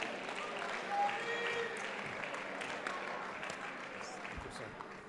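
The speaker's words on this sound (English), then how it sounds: "Please give him a big round of applause again" An audience at the IPM 2019 awards ceremony applauds an award presenter, a steady, moderately distant wash of clapping in a large hall that gradually fades, with a voice speaking over it.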